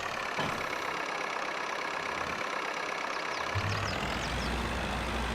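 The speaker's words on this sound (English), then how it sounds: "Oh, this is noisy, this tractor." An old tractor engine, a Ferguson or Fordson Major, runs steadily with a loud, constant rumbling drone and shifts to a slightly deeper tone toward the end, with no talking.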